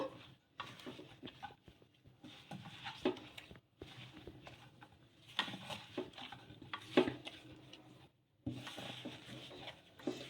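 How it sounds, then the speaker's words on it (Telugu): Flour dough for rumali paratha being mixed and pressed by hand in a bowl, giving soft irregular squelches and pats with occasional light knocks against the bowl, close by and fairly quiet with brief pauses. "ఇలా ఈ పిండిని మొత్తం బాగా కలిపేసుకోవాలి"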